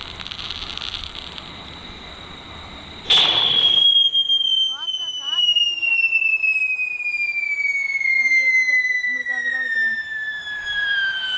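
A sharp Diwali firecracker pop bursts out, followed by a long, shrill whistle that slowly falls in pitch, with faint voices in the background.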